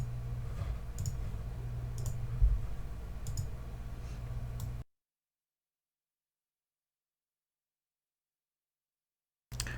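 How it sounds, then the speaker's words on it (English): A computer mouse clicking on links: four or five crisp, isolated clicks over a low background hum, followed by a stretch of silence and one more faint click at the end. "you're going to go to my video here and click these links"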